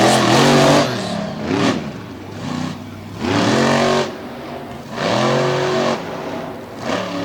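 A monster truck on a race track at Lake Erie Speedway revs its engine loudly in repeated surges. It climbs and falls in pitch over and over as it powers through the corners, heard alone without speech.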